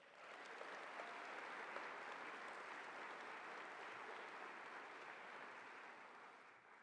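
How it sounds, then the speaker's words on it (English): A large audience applauds steadily at a university convocation, a dense, sustained wash of clapping from a big crowd that holds evenly throughout before easing slightly at the end. "That deserves a big round of applause."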